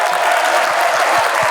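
A packed school assembly crowd of about 600 students at a student council town hall claps and cheers, a dense, loud, steady roar of applause with no single voice standing out.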